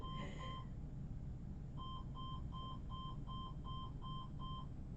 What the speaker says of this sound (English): when the store is closed and you like walk up too close to that front door, it just beeps